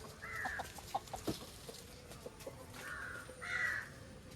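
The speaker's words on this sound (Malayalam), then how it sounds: "കോഴി കാണിച്ചിട്ട്" Chickens around a house and yard cluck and squawk in a few short bursts, close and moderately loud, with faint background noise and no talk.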